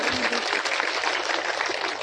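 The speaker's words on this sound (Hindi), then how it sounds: "जोरदार ताली बजा करके इनका स्वागत करिए।" A crowd at a party rally claps to welcome a local party official, a dense continuous patter of hands sustained throughout at moderate loudness.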